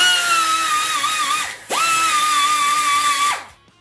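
Carbide burr grinding the port of a Ford 351 Cleveland cylinder head, a loud, steady high-pitched whine that runs for about a second and a half, drops out briefly, then resumes before stopping.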